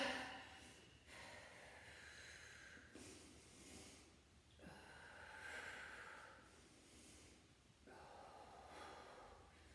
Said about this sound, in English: I don't know if you can hear my breathing